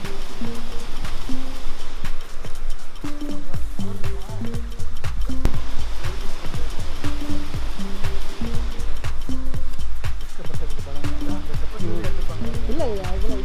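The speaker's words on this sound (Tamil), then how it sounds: "தண்ணி சவுண்ட் கேட்குது" Steady, loud rushing water pours at the Kannimar falls in Sirumalai, a constant broadband wash beneath frequent nearby conversation.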